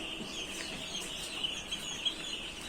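Chickens cluck faintly in the background, with a few soft calls over a quiet, steady ambience and no talking.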